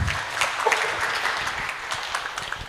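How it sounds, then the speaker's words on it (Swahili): A church congregation claps warmly after a worship team at a Sunday service, sustained applause from many hands, fairly close and even, with no speech over it. "Tuwapigie makofi mazuri."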